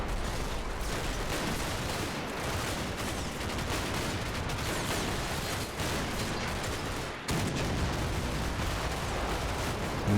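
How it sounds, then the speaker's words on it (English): Dense, continuous battle noise from Combat Mission: Battle for Normandy, with overlapping gunfire and explosions rumbling steadily throughout and a sharp cut partway through, no speech. "Lots of bangs and explosions"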